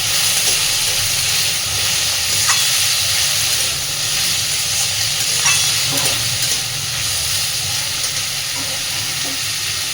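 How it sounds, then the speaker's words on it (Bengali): Potato, onion and green chili fry in a pan with a loud, constant close sizzle and hiss. A few faint clinks sound over it, and no one speaks. "এবার এই আলু, পেঁয়াজ আর কাঁচা লঙ্কাটাকে আগে একটু ভেজে নেব।"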